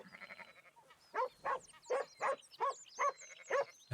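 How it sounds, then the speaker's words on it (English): A dog barks in a rapid series of about eight sharp, fairly close barks with a brief higher yelp before them, heard alone without talk. "That barking's so loud compared to everything else."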